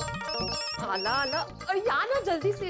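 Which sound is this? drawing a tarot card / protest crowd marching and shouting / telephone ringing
telephone ringing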